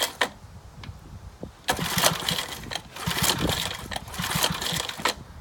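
Briggs & Stratton 5 hp flathead engine from a dump being pull-started, several sharp rope pulls with sputtering, coughing attempts that catch briefly and rattle at close range without fully settling into a run.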